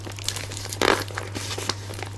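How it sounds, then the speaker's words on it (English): A paper envelope being torn open by hand gives a short crinkling rip with one louder tear in the middle, surrounded by light rustling and a steady low hum. "ravaging this envelope will be arduous"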